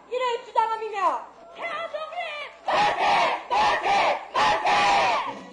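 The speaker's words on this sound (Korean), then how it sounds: "일본의 식민 통치에 항거해 나라를 되찾기 위한 학생들의 함성이 되살아났습니다" Students' shouts at a reenactment of a Korean independence movement against Japanese colonial rule, starting with a few lone calls and then breaking into repeated loud bursts of crowd cheering and chanting in unison.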